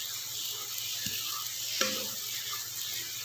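Shahi paneer gravy sizzles in a pan as it is stirred, making a steady hiss with two brief scrapes of the spoon against the pan.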